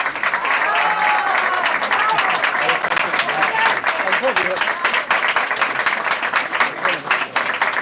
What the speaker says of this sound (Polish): I prefer to get applause after I speak, not that before.